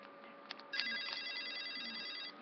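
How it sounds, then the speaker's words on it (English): A bootleg toy phone plays a generic electronic cell phone ringtone, a bright repeating warble that rings steadily for under two seconds after a couple of button clicks, close and alone. "You like a generic cell phone sound or something?"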